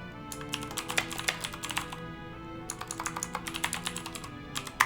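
Fingers tap a computer keyboard in quick bursts of close, crisp clicks, with a short pause midway, while playing Starship Titanic, all over a faint steady background hum.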